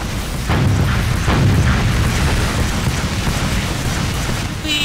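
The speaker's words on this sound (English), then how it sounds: "We rocket jump" A loud booming rocket blast in Team Fortress 2 during a rocket jump, a sustained rumbling burst that fills the whole stretch without any voices.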